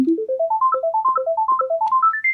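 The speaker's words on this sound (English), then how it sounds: "I'm going to turn on my arpeggiator." A synthesizer arpeggiator run through an ER-301 module plays quick, clean stepped tones that climb in repeating ascending patterns, bright and evenly spaced, with no other sounds.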